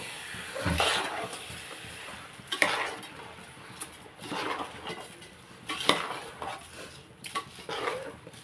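Prawns frying with gongura leaves in a pan while being stirred, giving repeated metal spatula scrapes and clanks at irregular intervals over a soft continuous sizzle, close and fairly quiet.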